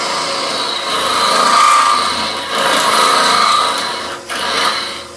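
A woodturning tool scrapes sideways against a spinning workpiece on a lathe, a loud continuous rasping hiss that swells and eases in long strokes with a brief dip near the end.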